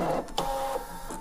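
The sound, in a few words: Brother ScanNCut machine cutting T-shirt design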